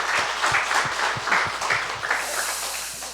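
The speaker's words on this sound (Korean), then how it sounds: "우리 한사랑교회 역사하신 하나님 앞에 영광의 박수 올리겠습니다." A church congregation claps together in steady, rhythmic applause at a gathering, evenly paced beats forming a continuous wash of hand claps with no talk.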